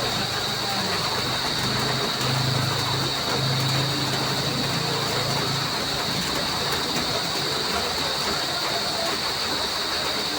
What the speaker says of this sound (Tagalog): lumakas ang ulan ito